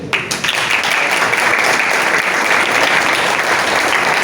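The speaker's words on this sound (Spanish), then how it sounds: "les pido un aplauso para ellos" Audience applause at a public event on fighting the blockade, a loud, dense, sustained wave of clapping from a large crowd, continuous and close.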